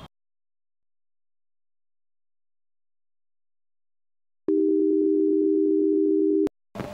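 A phone call to a switched-off phone: silence, then a single steady electronic tone lasting about two seconds before cutting out abruptly.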